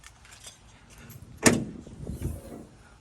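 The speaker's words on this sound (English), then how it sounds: "Let me open the hood." Hood release and latch on a wrecked BMW F30 sedan: one sharp metallic clunk midway, followed by rustling and a dull thump as the hood is lifted, close by with no talking.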